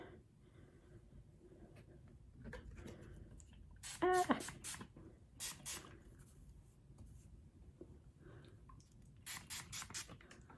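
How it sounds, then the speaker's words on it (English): Several short hissing bursts of an aerosol hair product sprayed onto hair in quick clusters, with quiet rustling and handling noises between them. "Spraying on the top and the bottom."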